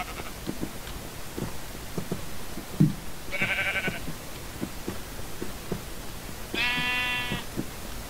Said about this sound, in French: Là, je ramène deux petits moutons.